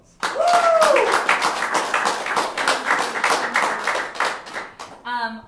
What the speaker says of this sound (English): you will clap for the one you want to see